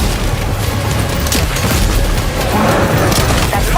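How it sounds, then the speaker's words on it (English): Gunfire and booming blasts in Death Stranding 2 on PS5, a dense, continuous barrage of loud shots and impacts with no clear gaps, filling the whole stretch at close range. "Opening fire now"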